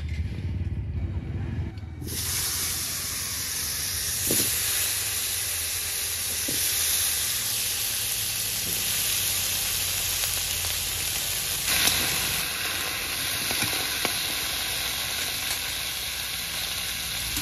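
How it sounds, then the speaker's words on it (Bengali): Green bananas frying in oil left over from frying puti fish, a steady close sizzle with broad hiss running throughout and occasional stirring clinks, after a short quieter start. "ওই মাছ ভাজা তেলেই এবার কলাগুলো ভেজে নেব।"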